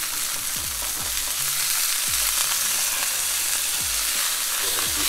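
Ground turkey fries in a pan with a steady, loud sizzle, broken by several soft scraping sounds as the meat is flipped and loosened, with no voices.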